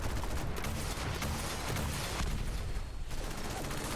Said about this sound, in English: Who is still shooting me with mini nukes?